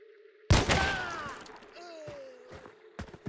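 Gunshots in the video game Hunt: Showdown, one sharp loud blast followed by a ringing, decaying tail and a few softer, distant shots and thuds afterward.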